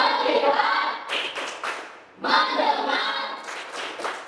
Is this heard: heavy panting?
no